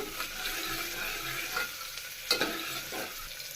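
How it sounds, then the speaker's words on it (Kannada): Finely chopped onions fry in hot oil with a soft, close sizzle, broken by light stirring scrapes and clinks. "ಸಣ್ಣ ಸಣ್ಣದಾಗಿ ಕಟ್ ಮಾಡಿರೋ ಈರುಳ್ಳಿ ಸೇರಿಸ್ತಾ ಇದ್ದೀನಿ ಒಂದು ಈರುಳ್ಳಿನ ಗೋಲ್ಡನ್ ಕಲರ್ ಬರೋವರೆಗೂ ಫ್ರೈ ಮಾಡ್ಕೋಬೇಕು"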